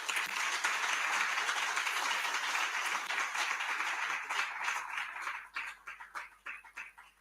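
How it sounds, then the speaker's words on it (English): Audience applause for a governor at the WIPD 2023 event, a dense sustained clapping that carries steadily for several seconds, then thins into scattered individual claps as it fades out. "A round of applause for Ms. Governor again."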